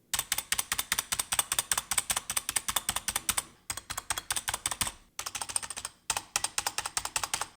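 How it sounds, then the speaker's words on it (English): Typing on a membrane keyboard with stabilized keys such as backspace, enter and right shift, rapid rhythmic clacks with a metallic, metal-on-metal rattle, played in bursts separated by short pauses, close and clear with no talking. "It sounds like metal on metal contact."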